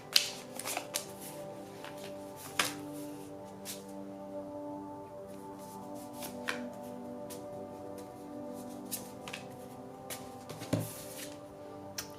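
Tarot cards being shuffled and drawn, giving soft riffling and flicks with scattered sharp taps across a quiet room, close and fairly faint.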